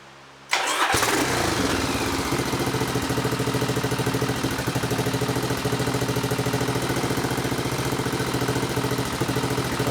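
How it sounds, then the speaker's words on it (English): A Yamaha XV1000 Midnight Special motorcycle, its engine freshly installed, starts abruptly after a moment of quiet, then settles into a loud, steady, throbbing idle that runs on close by without any talk. "let's start the bike up and see what we've got"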